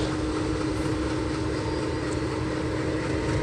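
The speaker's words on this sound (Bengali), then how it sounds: "আপনারা সবাই দেখতে পারছেন নতুন রাস্তা দিয়ে রেল যাচ্ছে।" A freight train hauling stone and chains runs along a new rail line, a steady distant rumble of wagons with faint clickety-clack, no voices.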